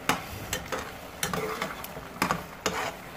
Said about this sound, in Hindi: अब हम इसकी 10-15 मिनट तक अच्छे तरीके से भुनाई करेंगे